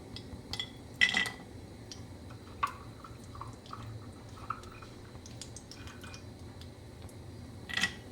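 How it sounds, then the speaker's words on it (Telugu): Ghee bubbling in a pan gives off faint, scattered pops, crackles and tiny ticks over a soft, quiet background. "ఓకే, గీ మరుగుతుంది చూడండి."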